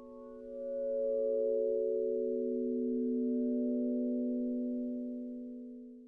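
A synth pad from a free Decent Sampler instrument, a smooth sustained tone that swells in, holds steady for several seconds and fades slowly, heard alone.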